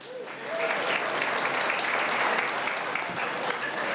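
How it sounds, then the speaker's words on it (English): An audience applauds awardees at a community heroes honors event: sustained, dense clapping that swells in within the first half second and stays loud and even, with faint voices mixed in. "Let's give all the awardees another round of applause there."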